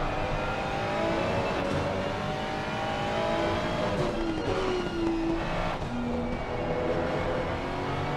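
GT3 race car in Assetto Corsa Competizione, a sustained engine roar with rising and falling pitch as gears shift, loud and continuous with no talk.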